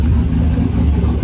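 A 2008 Chevrolet Silverado Z71 pickup with a DOD delete and a BTR Truck Norris cam, catalytic converters still in place: a loud, close, brief rumbling exhaust rev with a choppy, lopey low-end pulse.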